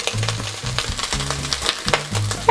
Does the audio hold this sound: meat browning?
yes